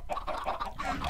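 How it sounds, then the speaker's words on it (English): Chickens in a Minecraft automatic chicken farm cluck in a steady run of short, close, repeated calls with no talking. "automatic chicken farm"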